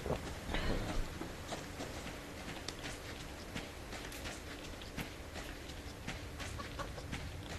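A chicken in the survival game Subsistence clucks repeatedly in short, scattered bursts close by, mixed with light footsteps and rustling; no voices.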